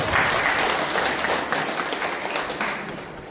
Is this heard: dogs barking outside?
no